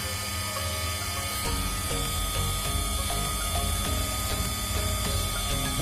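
A repaired electric water pump motor runs steadily and close by, with a continuous mechanical whir and a faint rhythmic ticking, no talk over it.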